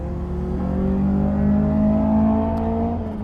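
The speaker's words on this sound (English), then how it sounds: "That black MX-5, that Mark II I just went by." A black Mazda MX-5 Mark II goes past on a race track, heard from inside another car on track day. A loud, steady engine drone with a slowly rising then falling pitch fills the whole short stretch.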